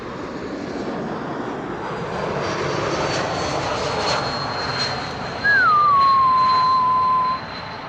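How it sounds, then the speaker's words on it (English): Air France Airbus A220 with geared turbofan engines arriving at Amsterdam Schiphol Airport, a steady engine roar with a distinct high whistle that sweeps down in pitch and holds near the end, loud and fairly close. "And that trademark geared turbofan engine whistle."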